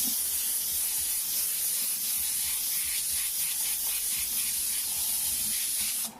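An airbrush sprays a wide, dusting pass along a hand, giving a steady, close airy hiss that holds evenly for about six seconds before cutting off.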